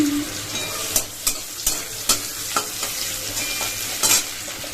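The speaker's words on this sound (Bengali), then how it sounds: "তো এই দেখো আমার পেঁয়াজ রসুন সব কিছু ভাজা হয়ে গেছে" Onion and garlic fry in a pan, giving a steady sizzle broken by repeated sharp stirring scrapes about every half second, close and fairly loud with no voices.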